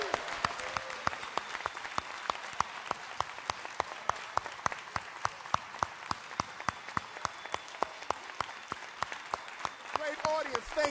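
Audience applause at a Millennium Stage show fills the space with continuous, fairly loud clapping, individual sharp claps standing out in a steady rhythm before swelling slightly at the close.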